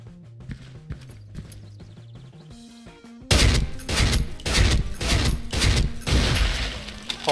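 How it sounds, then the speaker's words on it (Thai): SIG551 rifle fire in the Special Force 2 video game starts with quiet game sounds, then loud rapid bursts of shots ring out in quick succession. "เดี๋ยวเราลองยิงเท้ากันก่อนนะครับผมว่ากี่นัดตายนะครับ"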